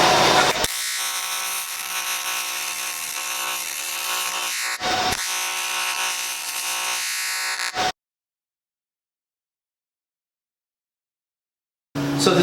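AC TIG welding on dirty cast aluminum with an Invertig 400 AC/DC machine, a steady loud buzzing arc held for several seconds, broken by a short pause, then cut off into silence before a brief restart at the end.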